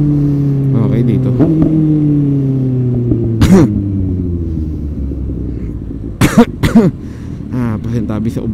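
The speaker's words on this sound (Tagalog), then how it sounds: "Pasintabi sa ubo ko, guys." A motorcycle rider coughs a few times while riding in traffic, some sharp near coughs and throat-clearing bursts standing out over the steady engine drone.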